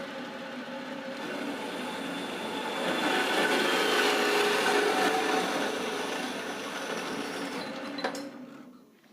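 Cutting a marked metal tube in a workshop with a pipe notcher, a steady harsh grinding rasp that swells in the middle and stops abruptly near the end.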